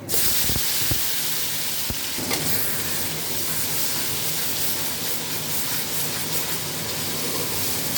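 Spice paste for chicken curry hits hot oil in a pan already used for frying potatoes with cumin and garam masala, bursting into a loud, steady sizzle that holds evenly throughout after a few sharp spatters at the start.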